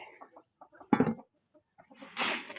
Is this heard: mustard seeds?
no